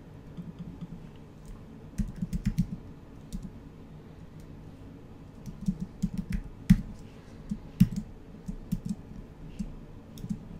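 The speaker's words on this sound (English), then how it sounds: "And here I'm going to type candy sale." Quick bursts of key taps on a computer keyboard as text is typed, light close clicks in irregular clusters with short pauses, no talking.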